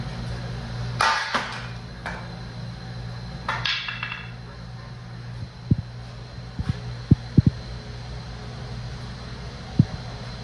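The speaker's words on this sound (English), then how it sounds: "we've got a bigger hammer, another nice piece of wood" A few sharp, dull knocks of a hammer on wood, spaced irregularly over a steady low hum, with earlier louder clattering thumps.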